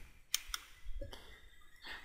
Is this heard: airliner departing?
no